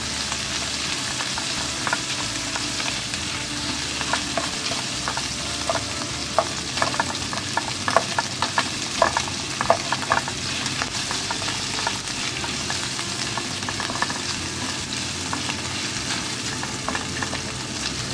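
Browned meat sizzling in a pan with garlic and onion for a Filipino pinakbet, a dense continuous crackle and fry with stirring clatter scattered throughout, close and steady.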